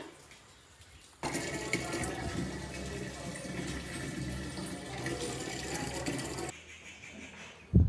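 Water runs from a tap into a container, a steady rushing pour that starts abruptly, continues for about five seconds and then cuts off, with quiet ambience before and after.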